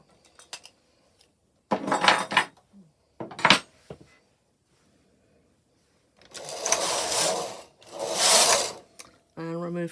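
Knitting being removed from a Silver Reed punchcard knitting machine: intermittent bursts of mechanical rattling and sliding as the carriage and needles move, separated by quiet gaps, with a brief clack near the end.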